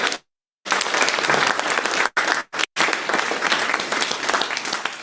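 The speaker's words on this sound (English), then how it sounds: "I think we ought to give Chas a round of applause." An audience at a lecture-series class breaks into sustained applause for Chas, a dense steady clapping that runs for several seconds after a brief pause, with only momentary gaps.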